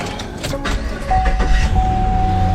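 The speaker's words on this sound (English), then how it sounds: "Cold start." A 2014 Chevrolet Caprice PPV, a former police car, cold starting: the starter whirs briefly and then the engine catches, settling into a loud, steady idle with a sustained tone close by.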